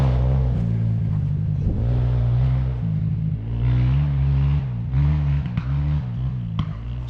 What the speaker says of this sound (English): Somebody racing a dirt bike around this place at the moment